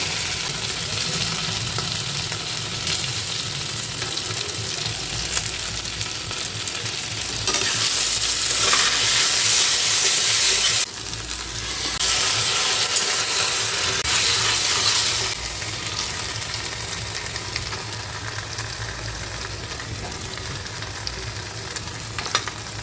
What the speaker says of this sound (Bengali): চালটা একটু ভাজা ভাজা হয়ে গেছে